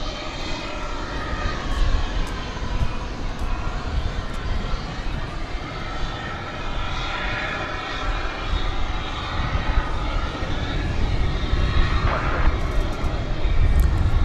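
An Airbus A319-100 airliner at DFW Airport, an American Eagle flight arriving from Bentonville, Arkansas, makes a steady, loud broadband engine roar that holds throughout with no let-up.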